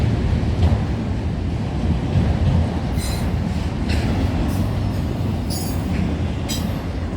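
A freight train hauling auto racks rolls past at night, a steady loud rumble of wheels on rails with repeated high squeals and clatter throughout.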